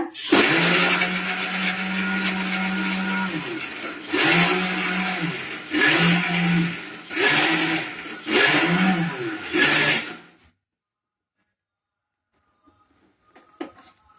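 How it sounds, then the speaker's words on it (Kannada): A kitchen mixer grinder jar whirs loudly as it powders boiled jackfruit seeds, running in one long burst and then four shorter pulses before stopping into near silence. "ಮಿಕ್ಸಿ ಜಾರ್ನಲ್ಲಿ ಪುಡಿ ಮಾಡ್ಕೊತೀನಿ."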